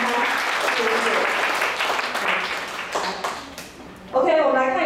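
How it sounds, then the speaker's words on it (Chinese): A church congregation at a Mandarin-language Sunday service claps together in a sustained round of applause welcoming visitors, fading out before a voice speaks at the end. "非常欢迎他们，鼓掌，欢迎他。"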